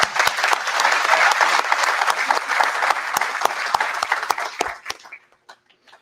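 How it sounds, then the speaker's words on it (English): An audience at a Rotary Club weekly hybrid meeting claps loudly in a dense burst, with a few sharp individual claps standing out, then tapers off and stops near the end. "Let's give a round of applause for Greg, please."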